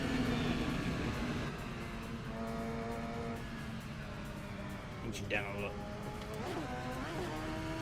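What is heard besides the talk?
race car engine in Assetto Corsa video game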